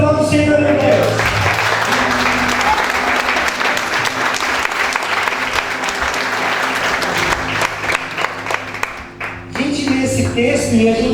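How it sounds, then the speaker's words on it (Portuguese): Church congregation applauds the Lord, a loud, dense burst of clapping with faint music sustained beneath, a voice audible at the very start and again as the applause fades near the end. "Se você crê nisso, aplauda o Senhor, meu Deus."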